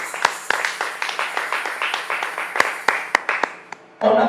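A church congregation claps to acclaim the Lord in a brisk, fairly regular rhythm of sharp claps with a few louder accents near the end, followed by a burst of voices.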